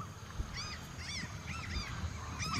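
Black skimmers along a river in the Brazilian wild give a series of nasal, barking calls, about five short bursts spaced over a couple of seconds, moderately close above a low background rumble.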